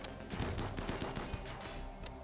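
Dense video game gunfire rattles in rapid overlapping bursts, loud and sustained throughout.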